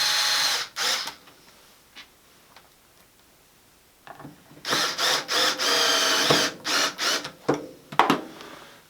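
A small power drill driving screws into a pedalboard whirs in several short bursts, near and fairly loud, separated by quiet pauses with faint clicks and handling noise.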